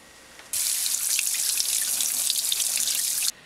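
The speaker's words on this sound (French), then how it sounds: "Première étape, laver les tomates." Tomatoes rinsed under a running kitchen tap: a steady, close rush of water that starts abruptly, pours evenly for about three seconds, then cuts off, with no talking.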